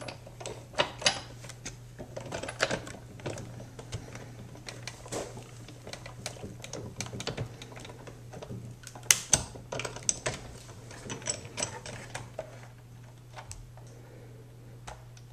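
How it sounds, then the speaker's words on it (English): A die-cutting machine feeds a die with pattern paper on top through its rollers. It gives off a low steady hum under a string of small irregular clicks and taps, faint and close, with no voices. "I'm going to go ahead and run this through my machine real quick here."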